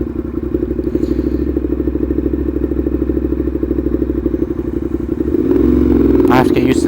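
Ducati Monster 1200 R motorcycle engine, a steady loud idling throb that swells near the end into a revving surge, close up, with a voice talking over it.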